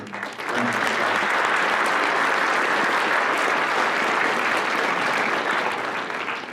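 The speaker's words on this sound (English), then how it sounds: "Let's please give our veterans a round of applause." Sustained applause from a school assembly crowd honoring veterans at a high school Hall of Fame event, a dense, steady roar of clapping that rises quickly and holds at full strength without talk.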